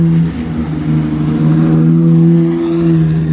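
A matte grey Ferrari 812 GTS with Novitec tuning revs its engine near a Monaco street, a loud deep droning howl that swells and holds, close and without talk.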